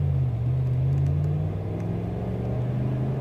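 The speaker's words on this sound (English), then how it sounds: "I'm going now, get on the gas." A 2016 Ram 1500 Sport crew cab 4x4 with a Hemi V8 pulling away from a stop sign, its engine giving a loud, steady low drone that rises slightly in pitch as it accelerates.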